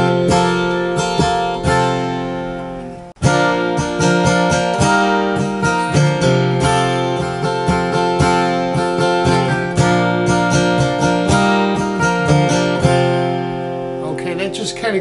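Acoustic guitar with a capo strumming and picking the chords of Morning Has Broken in a steady, bright rhythm, loud and close, with a brief break near the start and no talking over it.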